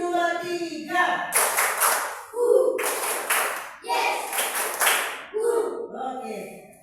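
Rhythmic hand claps from a class of students in a classroom, following a counted clapping routine, in three loud bursts of rapid claps separated by short pauses, with voices speaking between the groups.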